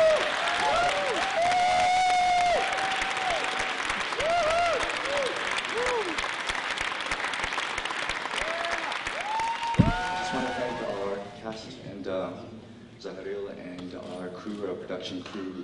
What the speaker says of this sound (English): Je vous demande d'applaudir le réalisateur de Karaoke,